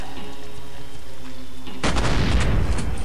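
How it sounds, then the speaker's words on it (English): An exploding barrel bursts in the first-person shooter Road to Fiddler's Green, one sudden loud blast that cuts through a quiet, humming background and trails off into rumbling noise. "here's a staple of every first-person shooter ever, an exploding barrel"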